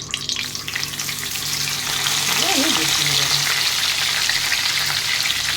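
Hilsa fish paturi wrapped in pumpkin leaf sizzles in hot oil in a kadai, a steady broadband frying hiss that swells and holds loud under a woman's speech.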